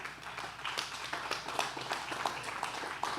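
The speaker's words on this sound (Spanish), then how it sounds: "Dale un aplauso al Señor" A church congregation claps in a sparse, uneven way, individual hand claps standing out distinctly against a quieter background, moderately close.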